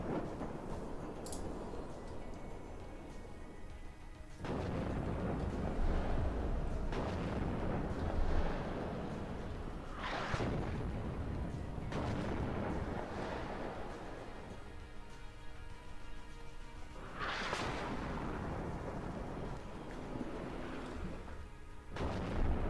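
British artillery piece firing in the video game Warno, with repeated heavy booms spaced a few seconds apart that roll and echo over a constant background rumble.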